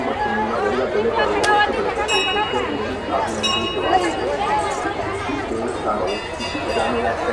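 Dense, steady crowd chatter from a packed temple queue during a family pilgrimage, many voices overlapping at close range with occasional clinks, no single voice standing out.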